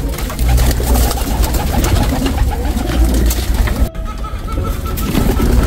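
A racing pigeon coos close by amid rustling and handling noises, its soft repeated calls sounding over a busy background with no clear speech.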